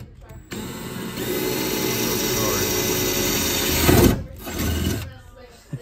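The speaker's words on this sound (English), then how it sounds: "We're gonna drill a hole just so we can get this clip a little cleaner" A power drill whirs steadily for about three seconds at close range, drilling a hole in a carbon fiber hood on a Lexus RC F, then winds down and stops, followed by brief handling noise.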